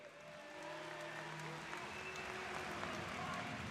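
Spectators at an MMA fight night applaud after a first-round submission win, the clapping steady under crowd voices and a talking announcer.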